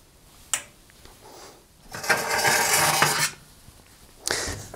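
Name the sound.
shelves being removed from inside a Rangemaster oven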